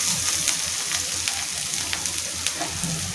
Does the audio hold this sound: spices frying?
yes